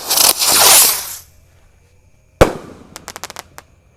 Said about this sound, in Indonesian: Ini meledusnya berputar dan meledos seperti Roman candle